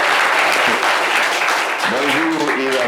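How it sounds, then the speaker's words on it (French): Loud, close applause from a group on a live morning show, dense clapping throughout with voices calling out over it near the end. "applaudissez bien fort Lambert"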